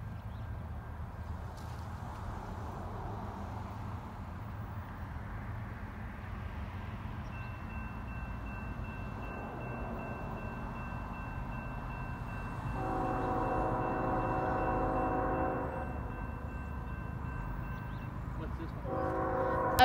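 A Norfolk Southern NS 16T freight train rumbles steadily through Charles Town, a sustained horn tone carrying over the low rolling noise and a louder blast of the horn near the end.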